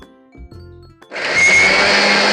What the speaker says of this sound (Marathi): मिक्सरला लावताना जास्त पण बारीक करून घ्यायचं नाही